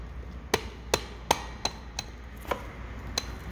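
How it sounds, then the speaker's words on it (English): A rubber mallet taps a new engine seal into place on a Toyota Celica 22RE seven times at an uneven pace, each a dull, close knock over a low background hum. "with non-marring hammer, just a rubber mallet"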